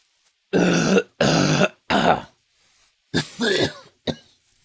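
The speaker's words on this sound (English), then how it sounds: "can clear my throat" A streamer clears their throat and coughs in five rough, forceful bursts: three close together, a pause, then two more and a short final cough, loud and close with no talking.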